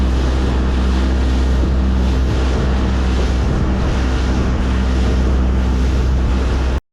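Strong wind buffets a boat on Lake Eildon, a loud continuous roar with low rumbling gusts and wind noise on the microphone, mixed with lapping waves and no voices.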